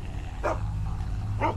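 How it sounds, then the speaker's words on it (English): A dog in The Walking Dead: Season 2 video game barks twice, two sharp, close barks about a second apart over a steady low hum. "We gotta shut this dog up."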